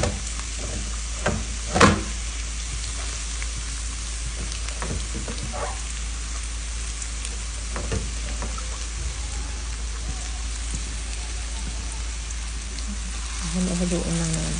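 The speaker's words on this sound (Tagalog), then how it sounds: "Lutuin lang natin yung bawang at sibuyas." Garlic and onion sautéing in oil in a pan give a steady, faint crackling sizzle with a few sharper pops and clinks, growing a little busier near the end.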